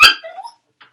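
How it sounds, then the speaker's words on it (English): A pet dog indoors gives a sharp, loud yelp followed by a couple of thin whimpering cries, then one faint short yip after a pause. "Sorry, that's my dog yelping."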